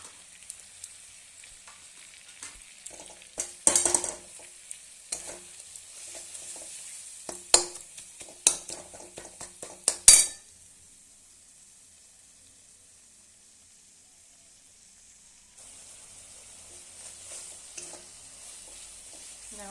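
Spices and ginger sizzle and fry in a pan, with sharp scraping stirs and clinks building up, then the frying settles to a quiet low hiss.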